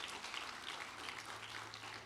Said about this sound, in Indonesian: Beri dong tepukan buat Tuhan kita